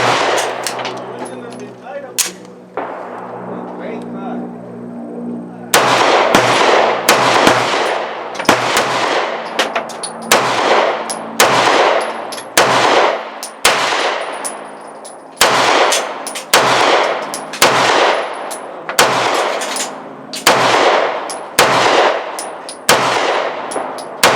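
A Smith & Wesson Model 5903 9mm pistol fires reloaded ammunition outdoors, a loud, steady string of sharp single shots spaced about a second apart, each with a short echoing decay.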